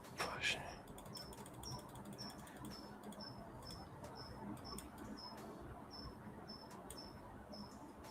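A cricket chirps faintly in the background, a steady series of short high trills repeating about twice per second, with low room noise and a brief louder knock at the start.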